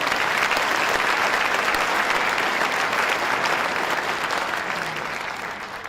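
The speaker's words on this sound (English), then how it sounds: "Give them another round of applause." An audience at a civilian preparedness training event in Farmingdale breaks into a sustained round of applause, a dense, loud wash of clapping that slowly tapers off.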